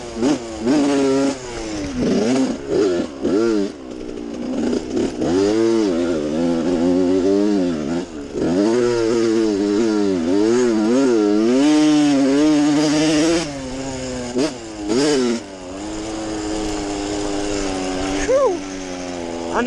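Dirt bike engine, a Yamaha YZ or Honda CR, revving up and down continuously while riding, loud and close with wavering pitch throughout.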